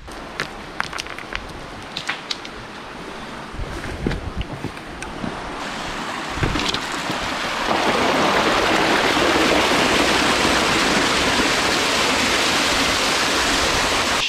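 Water flowing in a wild stream, a steady broadband rush that swells louder and closer after a few seconds of scattered footsteps and rustling, then holds constant to the end.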